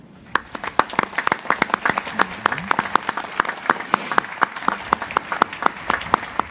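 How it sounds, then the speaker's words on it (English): Audience applause at a US Navy JAG change-of-office and retirement ceremony, a few distinct nearby claps standing out sharply over a softer spread of hands, steady and fairly loud. "please join me in a round of applause for everyone."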